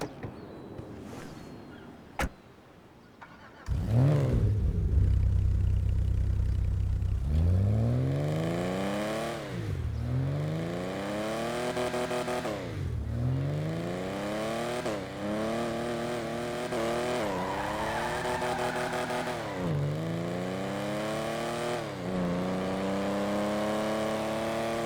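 JB700 sports car in GTA Online revs hard and runs up through the gears, engine pitch climbing and dropping with each shift in a loud, continuous run after a short quiet start.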